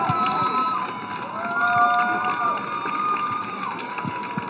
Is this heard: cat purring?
no